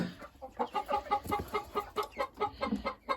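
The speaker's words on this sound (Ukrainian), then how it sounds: "наші курочки. Сидять." Domestic hens cluck in a rapid, rhythmic run of short calls, close and fairly loud, with no talk over them.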